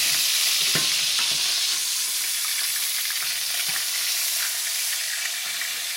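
Steak and potatoes stir-frying in a pan, a loud, dense, continuous sizzle with a few soft knocks and scrapes of stirring, steady throughout.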